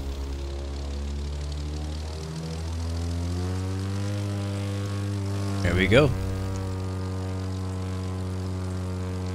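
Propeller aircraft engine droning steadily in the flying mode of The Crew 2 video game, a constant close hum that briefly surges near the middle, with someone talking over it.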